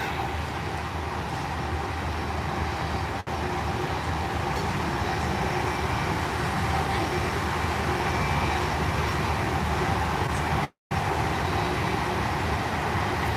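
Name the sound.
Amtrak Train 43 Pennsylvanian running at high speed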